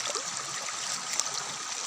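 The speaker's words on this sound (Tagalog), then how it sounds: "Yan ang ilog dito sa amon." Steady rushing of flowing stream water, a broad, even hiss of moderate loudness with no voices.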